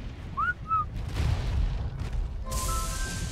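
Two quick whistle notes, one rising and one falling, cut through the steady rumble of the ARK video game as a player calls tamed dinosaurs. A sharper burst of game noise follows.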